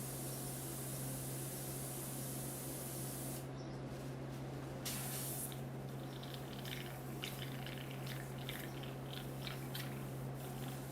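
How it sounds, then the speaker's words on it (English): An airbrush hisses in a steady continuous spray, close and fairly quiet, with faint bursts and small interruptions partway through. "Let me spray that outside."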